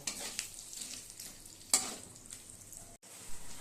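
Ground spice paste of ginger, chilli, tomato and nuts frying in a pan, making a faint, steady sizzle with soft scraping stirs and one sharp clatter midway, with no voices.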